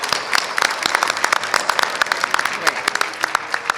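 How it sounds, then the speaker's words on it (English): Audience applauding the seniors at a community organization's fun gala, a lively round of clapping with distinct claps and a few voices mixed in, moderately loud and continuous. "a big round of applause for the seniors"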